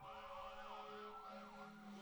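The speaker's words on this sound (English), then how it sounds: "We got some sirens in the background here" Wailing emergency-vehicle sirens rise and fall in steady sweeping cycles, heard continuously at moderate volume in the background with no talk over them.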